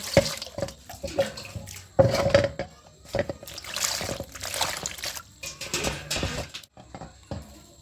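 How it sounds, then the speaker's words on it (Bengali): Running tap water splashes over a palm fruit as it is washed in a sink. The spattering and trickling are close and uneven, with bursts where hands turn the fruit under the stream. "প্রথমে আমি তালটিকে ভালো করে ধুয়ে নেব।"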